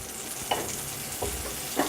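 Butter sizzles steadily in a hot pan with olive oil, a close, even hiss with a few small pops.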